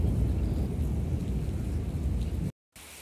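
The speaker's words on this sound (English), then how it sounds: "it is having a heavy rainfall with a strong thunderstorm" Heavy rain pours steadily during a strong thunderstorm in Jammu and Kashmir or Ladakh, a dense, loud roar filling the first two and a half seconds with low rumbling beneath, then cutting off abruptly before a quieter patch.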